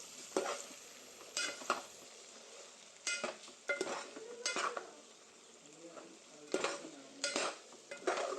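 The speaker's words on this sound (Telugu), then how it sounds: "సో అప్పుడు వేసి మనం ఇలా ఫ్రై చేసుకోవాలి." Boti curry with green chillies fries in a pan, a faint sizzle running underneath while a spoon scrapes and clinks against the metal in irregular, repeated strokes.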